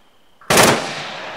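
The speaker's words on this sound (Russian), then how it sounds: "Стрельба." A single sharp, loud gunshot in the Arma 3 video game, crackling out suddenly and tailing off into a lingering echo after a faint tone.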